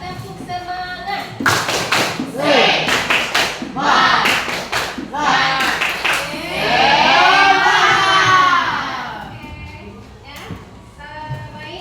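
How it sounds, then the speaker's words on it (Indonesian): A classroom of students performs a rhythmic clapping ice-breaker chant, with sharp group claps in bursts and chanted voices over them, loud and close, ending with a few scattered claps. "kita mulai 1, 2, 3, tepuk semangat"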